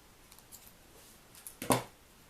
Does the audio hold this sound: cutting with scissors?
yes